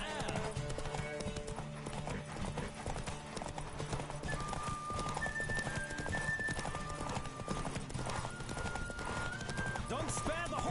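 Roach, the horse from The Witcher video game, gallops in steady rhythmic hoofbeats with an occasional whinny, layered under game music and a voice speaking.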